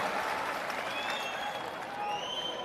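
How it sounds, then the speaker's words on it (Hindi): Audience applause in a Jan Suraj youth gathering at Bapu Sabhagar hall, a steady dense patter of many hands clapping together, fairly close and even throughout. "एक बार जोरदार तालियों के साथ आप सभी"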